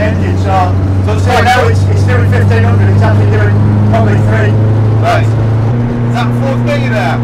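Hillman Imp car fitted with a BMW 1200cc motorbike engine, a loud steady idle drone holding then stepping up in revs, with people talking over it throughout.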